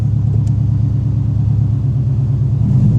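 A Subaru WRX engine idles in gear after a clutch pedal repair, a steady, close, low rumbling drone with an even pulse.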